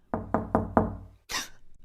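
Four firm knocks on a wooden door in a vintage-style radio drama, evenly spaced and close, followed by a brief breathy noise.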